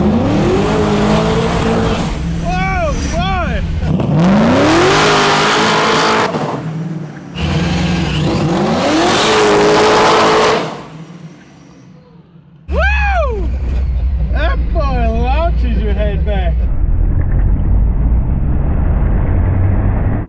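A 1000hp all-wheel-drive carbon-fiber G-body Cutlass launches hard, its engine roaring and revving in loud, rising bursts with brief gaps, heard up close from outside the car.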